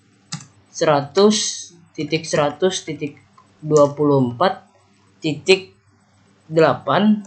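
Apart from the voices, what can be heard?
typing on a computer keyboard, entering router network commands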